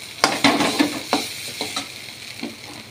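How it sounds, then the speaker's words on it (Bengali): Thor (banana stem) ghonto stirred in a pan with ground garam masala, a soft sizzle under a series of uneven, close scraping spatula strokes, about eight distinct strokes with no talking. "গুঁড়ো গরম মশলা দিয়ে একটু নেড়ে নেব।"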